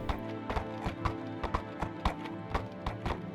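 War horse hooves clip-clopping at a walk, a steady rhythm of evenly spaced taps over a low background hum, moderately close and fairly quiet, with no speech.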